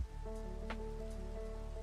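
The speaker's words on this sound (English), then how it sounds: "I'm not a fan of the rain, not gonna lie." Rain in the game Minecraft, a soft steady hiss of falling drops, faint and continuous throughout with a steady low hum underneath and no talking.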